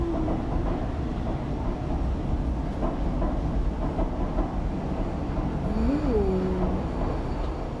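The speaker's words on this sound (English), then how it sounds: "Nobody's driving the train," Train running in the video game Stray, a steady rumble and rattle of rail cars throughout, with a brief tonal squeal rising and falling near the end.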